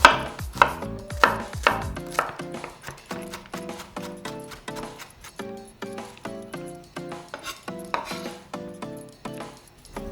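Garlic is finely chopped on a cutting board with a knife, rapid close rhythmic knocks that speed up and slow down, loud and alone, no voices.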